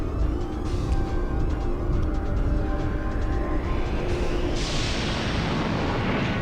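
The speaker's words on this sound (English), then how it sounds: "you're gonna taste the Divine Dragon Cannon" The Divine Dragon Cannon attack in The Legend of Dragoon video game detonates in a sustained, roaring explosion, a dense, loud rumbling blast that swells into a bright hissing surge near the end.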